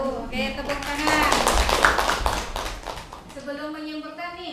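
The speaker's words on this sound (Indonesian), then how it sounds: "Oke, tepuk tangan" Students in a classroom clap together for about two seconds in a busy, rattling burst that rises and then fades. A voice speaks before and after the clapping.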